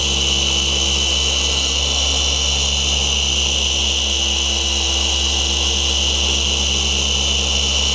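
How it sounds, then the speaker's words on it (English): A dual-action car polisher runs during paint correction on a Nissan 350Z, its spinning backing plate giving a loud, steady, unbroken whirring drone from start to finish. "just make sure that backing plate is spinning"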